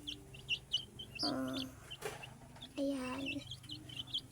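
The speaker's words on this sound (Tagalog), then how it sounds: "Ayan po ang aking mga sisiw." Month-old chicks peep in short, high, soft bursts scattered throughout, while a person speaks briefly nearby.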